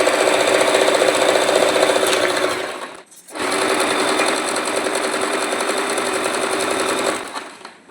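An electric sewing machine stitches a blouse in two loud runs of rapid, even needle clatter, split by a brief pause, then slowing and stopping at the end.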